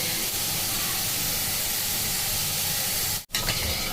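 Boondi batter for laddu frying in hot oil gives a steady, dense hiss and sizzle throughout, close and continuous, with a brief break near the end before the sizzling resumes.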